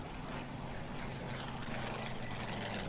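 Inside a video game, a jet aircraft loses altitude with a steady, loud roar of engine and rushing air that holds unbroken for a few seconds, with no voices over it.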